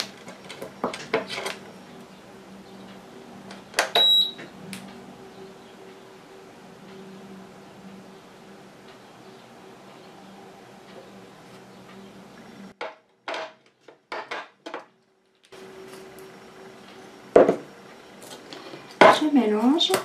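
After-sun lotion ingredients with provitamin B5 being mixed in a container, a few faint clinks and scrapes of a utensil against the vessel amid near silence, with louder taps near the end.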